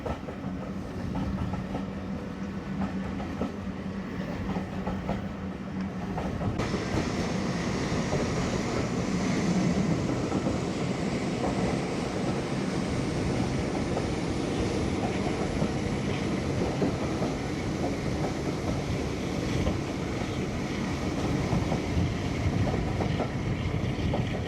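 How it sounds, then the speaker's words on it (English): Diesel train rolling along the rails during a diesel gala: a steady, loud rumble of wheels and engine with a broad noise wash and a faint rising whine, continuous from start to end with no talk. "Just enjoyed the sounds of us on this train."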